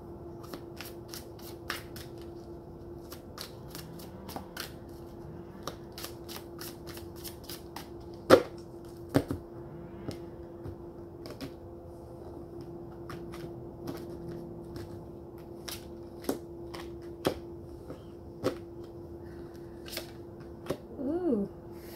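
Tarot cards are shuffled and pulled in a long run of quick papery riffles and sharp snaps, close and fairly loud, with a person talking intermittently underneath and a steady low hum throughout.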